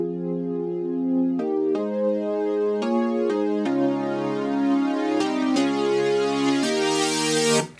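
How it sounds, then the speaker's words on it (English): Chords from Logic Pro's ES2 synthesizer, a factory default patch with tweaked settings and cutoff automation, sustain in a sequence of changing held chords, growing brighter and fuller toward the end before cutting off abruptly. "And here I have the ES2, which is also a standard Logic plugin."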